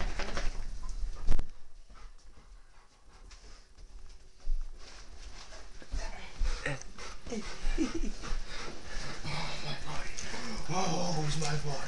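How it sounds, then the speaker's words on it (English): A dog whimpers and scratches close by, with soft whines and scuffing bursts that grow busier toward the end, mixed with human voices. "That's a happy dog."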